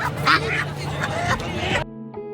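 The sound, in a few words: male duck quacking at bird market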